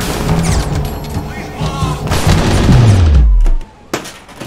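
Booming gunfire in the Roblox game hits the player with loud, rapid, overlapping shots. A deep descending whine falls away, then the sound cuts out, leaving one last sharp bang.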